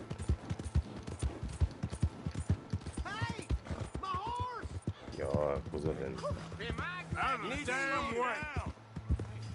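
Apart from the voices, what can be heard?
horse hooves in video game Red Dead Redemption 2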